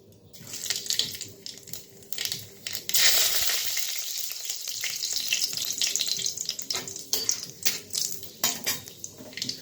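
Black cumin seeds dropped into hot mustard oil in a wok crackle and sizzle loudly and steadily, with a sharp burst a few seconds in and scraping kitchen clatter toward the end.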